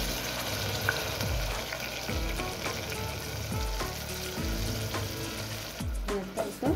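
Soaked masoor dal fries in a pan with a continuous crackling sizzle. A spoon stirs and scrapes at irregular moments, and a sharper clatter comes near the end, with no voices.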